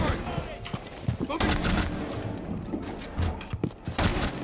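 Rapid gunfire from Amaru's weapon in Rainbow Six Siege, bursts of shots crackling close and loud over a busy game mix, with clusters of sharp reports spread across the moment.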